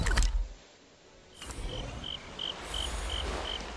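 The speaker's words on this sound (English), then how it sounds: "the owls and crickets really set the tone of this place being fucking dead" Crickets chirp at night in a regular pulsing rhythm, steady and moderately close, after a brief low rumble at the start; no voices.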